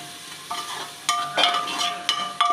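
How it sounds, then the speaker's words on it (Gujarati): Chopped onion and masala spice mix get stirred in a pan for ragda bhel, a few separate scraping strokes with a quiet sizzle, close and fairly soft, no voices. "ડુંગળી સાથે આ મસાલો સરસ મજાનો મિક્સ કરી લઈશું"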